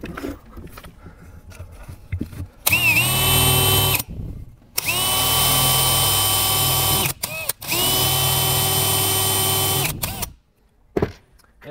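A power drill bores a 3/16-inch hole in a wooden rail, two long steady whining runs of the motor with a short pause between them and a brief stop and restart near the end, loud and close.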